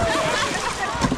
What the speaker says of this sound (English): And the water fight is on.